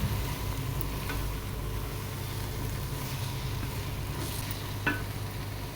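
Masala and vegetables sauté in a pan for pasta, a dense, even sizzle over a low rumble, with a single sharper clink near the end.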